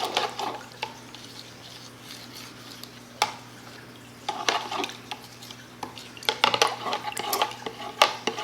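Colorant stirred into a melted conditioner bar mixture: light clinks and scrapes of a utensil against a container in scattered bursts, close and fairly quiet, with a faint steady hum underneath.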